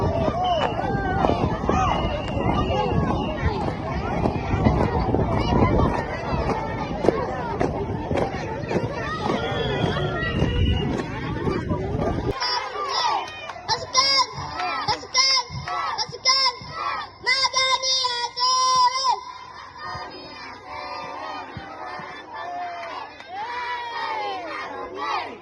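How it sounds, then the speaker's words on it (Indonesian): Loud crowd of spectators cheers and shouts at a schoolchildren's chant by a Sidrap elementary school group, dense babble and yelling throughout, thinning into scattered voices and shouts in the latter half. "Sontak yel tersebut mengundang riuh penonton yang menyaksikan langsung."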